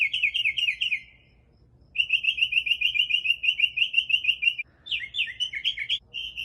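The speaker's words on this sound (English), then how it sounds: "It's got like 17 different fucking noises it makes." Loud, close bird calls at night, with a rapid repeated chirping trill that stops briefly, resumes as a long steady trill, then shifts into varied squeaky warbled notes, with no other sounds.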